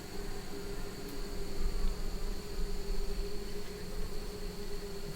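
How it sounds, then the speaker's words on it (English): Honey bees buzzing inside an open horizontal hive during an inspection, a steady close drone with a constant hum and no talking. "I'm thinking these bees are just patrolling."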